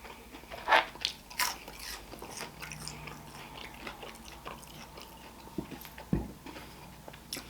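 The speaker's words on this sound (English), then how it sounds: "y'all hear that? They're crispy." Crispy fried dessert dusted with powdered sugar bitten up close, a few crunchy bites followed by soft chewing against a quiet background.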